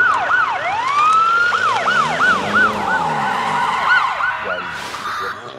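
Police siren wailing loudly and close, rapid rising and falling yelps that shift pitch repeatedly over street noise, with no talking.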